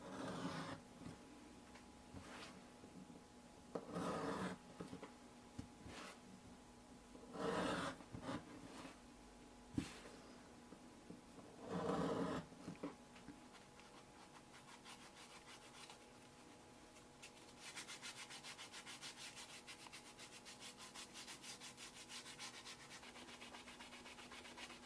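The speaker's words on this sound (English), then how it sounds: "I'm just going to bevel, sand, and burnish this inside a little bit." The inside edge of a leather picture frame is sanded and burnished by hand, with rhythmic rubbing strokes in short bursts, followed by a steadier, fainter friction sound that continues for several seconds.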